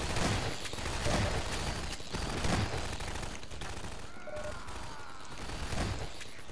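Automatic turret gunfire in the video game Half-Life 2: Episode Two during an antlion fight, a dense, continuous rattle of rapid shots with booming impacts running throughout.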